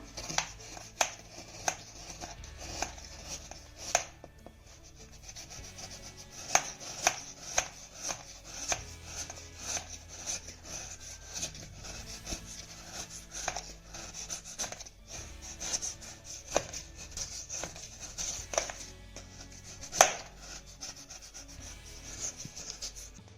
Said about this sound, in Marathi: आता हा गुळ बारीक असा चिरून घ्यायचा आहे